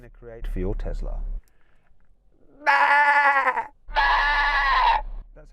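A human voice imitates a bleating spring lamb with two loud, wavering bleats, preceded by a short throat-clearing sound, with brief quiet gaps in between.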